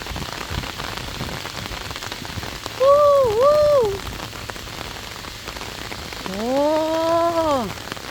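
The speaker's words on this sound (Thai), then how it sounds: "นะฝนตกมา" Rain falls steadily on sunn hemp plants, a constant soft patter throughout, while a voice breaks in twice with drawn-out exclamations.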